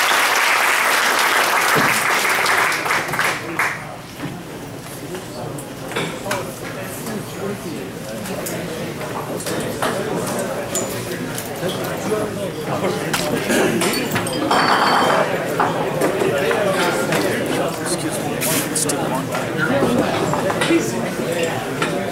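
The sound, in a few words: audience applause at meetup talk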